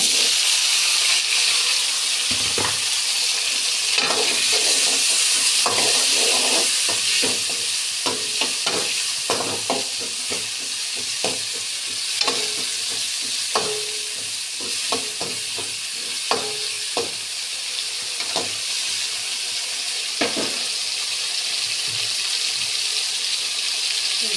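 A curry of ridge gourd, okra and brinjal frying in a pan, with a steady loud sizzle throughout and frequent scraping stirs and clinks of a ladle.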